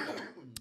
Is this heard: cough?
yes